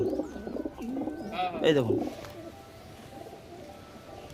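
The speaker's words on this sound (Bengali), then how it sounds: "এই দুটো পশ্চিমা আছে বন্ধুরা দেখুন, এই যে পশ্চিমা পায়রা" Pigeons coo at a pigeon sale, a short burst of close, throaty cooing mid-clip with soft bird chatter around it, while someone speaks briefly over the start.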